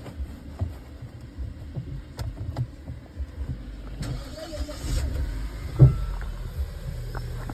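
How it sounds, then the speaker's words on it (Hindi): A Mahindra Thar engine cranking and turning over, with a low rumble that builds toward a short thump near the end, close and moderately loud, with no talking over it. "हम गाड़ी स्टार्ट करते हुए"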